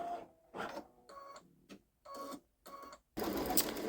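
A Baby Lock Solaris embroidery machine stitches lettering onto a T-shirt in short bursts of rapid mechanical whirring, separated by brief pauses, ending in a louder, denser run. It sounds close and clear with no talk.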